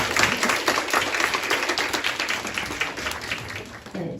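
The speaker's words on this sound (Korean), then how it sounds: "우선 열정적인 강연을 해주신 연사분께 다시 한번 감사의 박수 부탁드리겠습니다." An audience applauds a speaker after a lecture, with dense sustained clapping throughout that thins slightly near the end.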